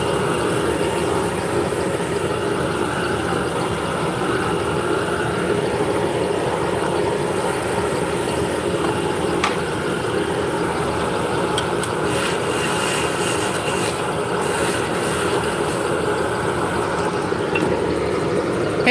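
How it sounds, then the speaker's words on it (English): A wood lathe turning hard maple spindle shafts for Turkish spindles, heard as a loud, steady, continuous machine drone with no pauses. "So today we're turning hard maple and we're making shafts for Turkish spindles"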